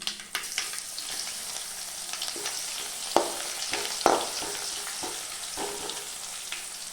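Crushed garlic cloves frying in hot oil with popped mustard and fennel seeds for a drumstick fry, a continuous crackling sizzle broken by several scraping stirs of a spoon in the pan, close and with no talk.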